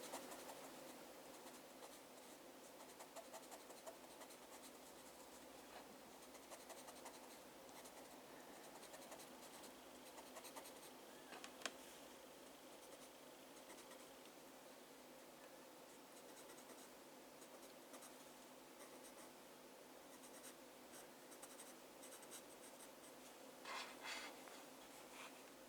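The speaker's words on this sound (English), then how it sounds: "I'm just turning my pencil as I go because it's getting quite blunt, and the turning is just giving me some nice jagged edges." Colored pencil, blunt and being turned as it goes, scratching steadily across paper while drawing a peacock; a continuous soft, close scritching texture with slight rhythmic strokes, no voices.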